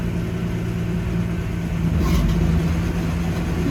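A 1965 Ford Mustang with a 200 inline-six and a T5 five-speed swap, pulling in second gear, its low engine drone steady and close throughout, rising slightly toward the end.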